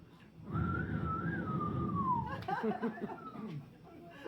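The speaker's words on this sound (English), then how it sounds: "Whistling and everything." A person whistles a single long, wavering tone, followed by chuckling and murmured laughter.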